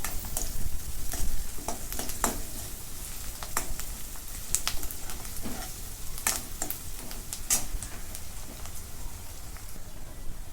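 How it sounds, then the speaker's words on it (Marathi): Finely chopped curry leaves sautéed in a pan with onion fried until pink, giving a steady, close sizzle with scattered crackling pops throughout and no talking. "आता याच्यामध्ये बारीक चिरून घेतलेला कढीपत्ता टाकून घेते परतून घेते"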